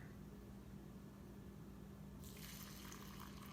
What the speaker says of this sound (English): Pour water, just cold water right over the top.